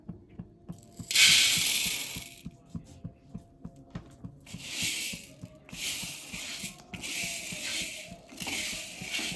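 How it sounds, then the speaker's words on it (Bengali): Black gram lentils poured into a pan for frying after sesame seeds, a bright hissing rush of sizzle that swells and recurs over a steady low rhythmic thumping. "এবার দিয়ে দেব মাসকালাইগুলো।"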